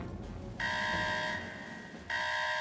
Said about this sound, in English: Shut the alarm off, Doyle!